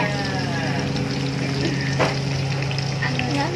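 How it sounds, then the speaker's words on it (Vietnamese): Fish frying in a pan in a home kitchen, a steady dense sizzle and crackle of hot oil running continuously and close, with a brief louder spatter midway and no talking. "Thì bây giờ mình chiên đi rồi."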